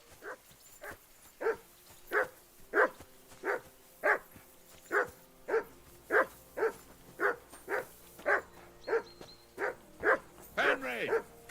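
A dog barking in the video game Kingdom Come Deliverance 2, a long run of evenly spaced, mid-distance woofs at a steady rhythm, ending in a few rougher, whinier barks.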